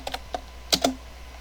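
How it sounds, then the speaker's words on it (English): A password typed on a computer keyboard: a few quick, close key clicks in two small bursts, with a short gap between them and quiet after. "And then type in your password."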